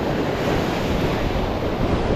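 Ocean waves break and wash over rocks in a continuous loud roar, with gusty wind buffeting the microphone throughout.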